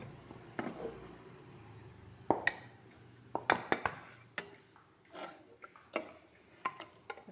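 A spoon scrapes and clinks against a pot as ground masala is stirred into a snake gourd kootu, giving soft, irregular metallic taps and scrapes that sound close and fairly quiet.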